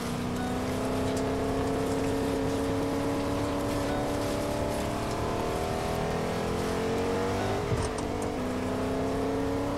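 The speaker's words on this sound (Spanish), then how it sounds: "Voy a coger el coche con menos gasolina de todo Fortnite." A car engine drives in the video game Fortnite, a loud steady motor drone that rises and shifts in pitch as the vehicle moves, with no talk.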